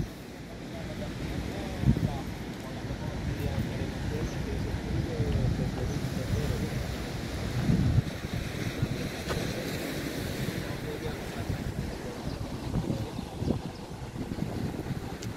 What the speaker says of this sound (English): Sometimes it's nice just to see the waves.